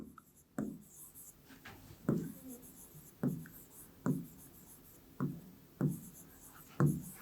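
A pen writes out a Class 6 ratio and proportion maths solution on paper, heard as a steady series of about seven short, close scratchy strokes at a fairly even rhythm, with no talking.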